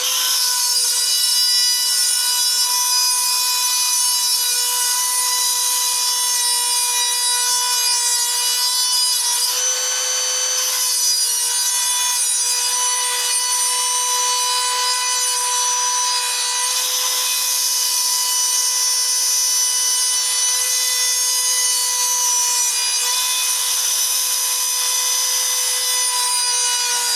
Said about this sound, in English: so we can drill out the first rivet. I'm using a Dremel 8220